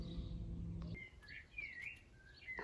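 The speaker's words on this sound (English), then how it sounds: "There's a bird in here." A small bird trapped inside a caravan gives several short, high chirps and tweets, fairly close but soft, after a low rumble cuts off.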